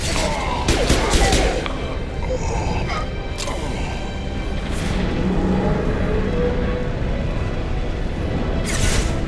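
Gunfire in Mass Effect Legendary Edition 2 crackles as a dense volley of shots mixed with booms, with people talking over it throughout.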